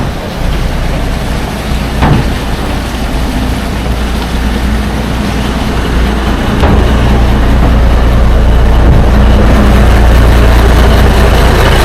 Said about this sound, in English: Big ass diesel engine.